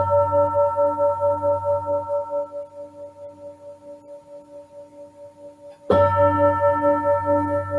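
A meditation gong at a Buddhist evening practice rings out with a long sustained tone that slowly fades, then is struck again near the end, blooming back to full strength; no talk over it.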